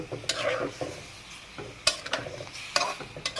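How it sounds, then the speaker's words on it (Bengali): Local koi fish are stir-fried in a pan, with a soft sizzle under repeated close scrapes and clatters of the spatula against the pan in quick, uneven strokes. "সুন্দর করে কষিয়ে নেব। দেশি কই মাছ"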